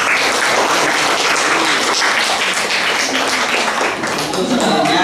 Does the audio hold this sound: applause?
yes